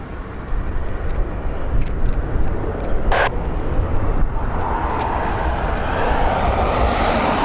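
A plane taxiing very slowly toward runway 28 right at Dublin Airport gives off a steady low engine rumble and hiss, moderately loud and unbroken, with a brief brighter noise partway through.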